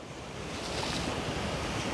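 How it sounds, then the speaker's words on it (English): Choppy sea waves off the Thai island of Koh Lang near sunset, a steady broadband wash of surf with wind buffeting the microphone, loud and continuous throughout with no voices. "The water's a little bit choppy today"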